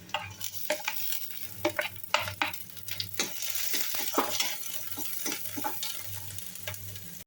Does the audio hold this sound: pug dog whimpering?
no